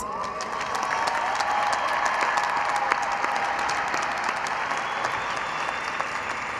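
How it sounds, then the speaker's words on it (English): Audience at a high school graduation in Peoria breaks into steady, dense applause, many hands clapping continuously at even loudness for several seconds. "Please give these students an applause."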